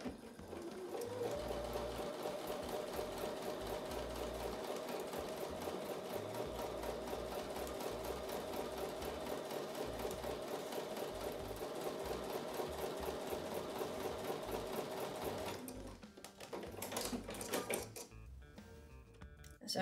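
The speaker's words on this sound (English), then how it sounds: "I'm going to take that back over to the sewing machine, sew with a 1/4 inch seam" A sewing machine stitches a quarter-inch seam on a quilt block in one long, steady, close run of fast rhythmic whirring that halts near the end, leaving brief clatter and quiet handling.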